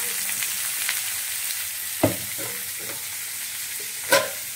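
Steady crackling sizzle of marinated chicken frying in hot oil, with two sharp utensil knocks against the pan partway through.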